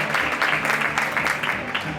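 Steady crowd applause at a women's football all-star match in Lugo as a player is introduced, dense rapid clapping sustained throughout at moderate distance, with a little crowd noise mixed in.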